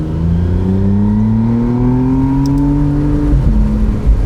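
A 2025 McLaren Artura Spider's 3.0-litre 120-degree V6 engine revs steadily upward with the roof open, its rising drone loud and close, with a brief throttle blip near the end.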